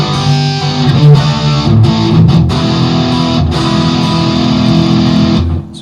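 Electric guitar with heavy distortion on a Dean VX fitted with a replacement Graph Tech nut, played through the bridge pickup: loud, sustained chords and riffs with a thick, saturated tone that fill the whole stretch without any voices.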